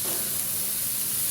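Carrots and beans sautéing in a pan over a low flame, a steady close sizzle and hiss with faint stirring texture, no voices.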